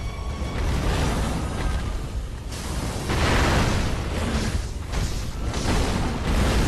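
A firecracker bursts in the samurai action game Sekiro during a boss fight, heard as a loud booming blast followed by rumbling bursts and whooshing combat effects, with no talk over it.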